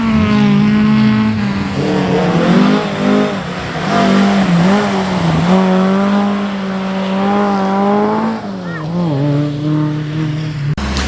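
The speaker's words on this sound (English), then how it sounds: "This is the first run of this Lotus Cortina Mark 1." A Lotus Cortina Mark 1 historic rally car runs on the Oulton Park skid pan, its engine revving hard and loud with rising and falling pitch through gear changes, close throughout, with a voice talking over it.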